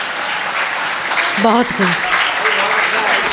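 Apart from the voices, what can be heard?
audience applause at a poetry recital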